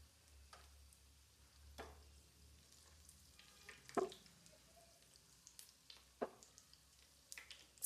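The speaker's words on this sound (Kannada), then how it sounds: "ಇದನ್ನ ಫ್ರೈ ಮಾಡ್ಕೊಳ್ಳೋಣ." Nuggets of bread with ginger-garlic paste fry in a pan with faint, steady sizzling and a few soft stirring clicks, heard up close and quiet.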